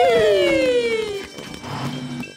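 A cartoon fire engine siren wails loudly in a falling sweep, then settles into a lower, steadier two-tone blare as the animation plays on.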